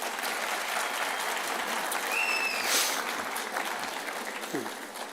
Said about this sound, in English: Graduates, can you please give your loved ones a big round of applause?